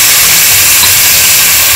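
Chopped citron hits hot oil for a pickle and sizzles in a loud, close, continuous hiss that stays steady throughout with no talk over it.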